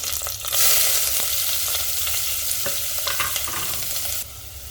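Chopped green chillies and onion frying in oil in a pressure cooker: a loud, close hiss with scattered stirring clicks, easing slightly in the final moment.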